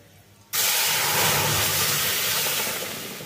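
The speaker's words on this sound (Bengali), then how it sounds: "সেদ্ধ করে রাখা ডালটা দিয়ে দিলাম" Boiled dal tipped into hot oil tempered with asafoetida sets off a sudden, loud, close steam hiss that swells at once and then holds steadily, fading slightly toward the end, with no voices.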